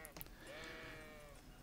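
Sheep bleating in Kingdom Come: Deliverance, a single wavering bleat near and fairly faint, alone without talk.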